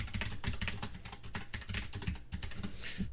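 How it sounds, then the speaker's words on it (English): Rapid, steady typing on a Cherry MX Board 6.0 keyboard, with dense, fairly loud non-clicky keystrokes tapping close up and continuously with no pauses. "It just has a sound that is louder than a traditional keyboard, but is not a click per se"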